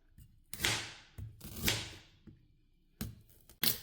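Ginger pounded in a kitchen, several sharp, separate thuds in an uneven rhythm with quiet gaps between them, close and fairly loud.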